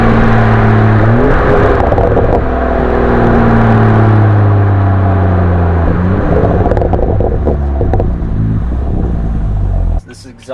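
A BMW F30 335i with an Agency Power aftermarket exhaust revs through rising and falling engine sweeps, heard loud from inside the car, with a person talking over it and a brief burst near the end.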